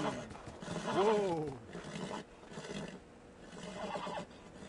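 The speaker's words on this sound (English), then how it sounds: "Those are the same horse noises" A horse's whinny in the video game Beyond: Two Souls rises and falls near the start, followed by snorts and softer neighs over a faint voice.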